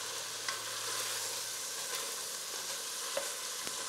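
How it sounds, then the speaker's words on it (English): Ginger sautéing in butter in a pan as the base for a keto curry stew, giving a steady soft sizzle with a few light stirring clicks and scrapes, close and fairly quiet, with no talking. "sauteing it in the butter"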